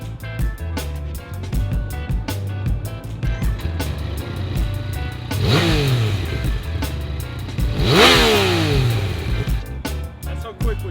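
A 2018 Yamaha MT-09 on its stock exhaust idles with a lumpy rumble, then gets two sharp revs, each climbing quickly and falling back to idle, loud and close.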